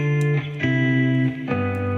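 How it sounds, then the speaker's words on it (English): Sustained electric guitar chords ring out, changing a few times in a slow progression, with a thick, slightly driven tone and no voices. "This is the electric guitar here"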